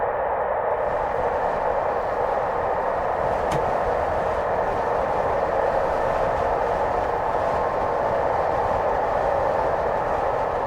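A train in Train Simulator 2021 on the London to Brighton line drives on at speed, producing a loud, steady broadband roar with a constant rolling drone and one brief sharp click near the start.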